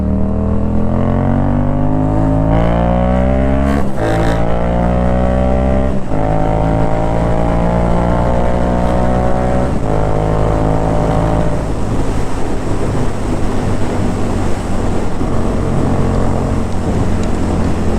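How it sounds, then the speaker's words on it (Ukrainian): A car engine revs hard as the driver accelerates in traffic, a loud, steady roar whose pitch climbs and then settles into a dense, continuous drone close to the microphone. "я газу буду зараз давати дуже сильно"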